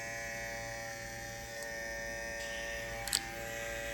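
Babyliss Pro FX One limited-edition hair clippers running with a steady, close electric buzz that holds an even level throughout, joined by a brief click near the end.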